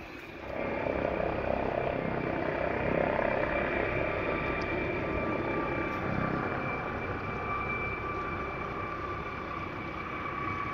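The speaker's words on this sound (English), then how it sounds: "Looks like the helicopter's about to take off." A helicopter at Grand Canyon National Park drones in a steady, fairly faint whine and rumble as it readies for takeoff, holding a constant level from a moderate distance with no voices.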